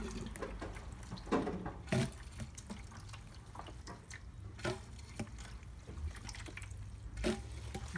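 Water trickles and gurgles through an aquarium line being cleared of air, with irregular splashes, drips and bubbly bursts over a low steady flow, fairly close and quiet.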